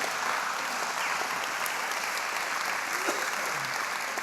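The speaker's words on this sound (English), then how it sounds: "So I want you to give a round of applause to three Mikes." Applause from a church congregation for three men called up front, a steady dense wash of clapping held at even loudness throughout with no voices over it.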